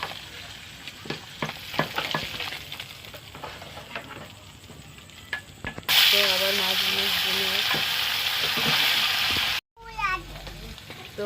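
Aila fish fry in hot oil in a kadai, first as a crackling patter under brief talk, then as a loud, dense roar of spitting oil that cuts off abruptly and resumes.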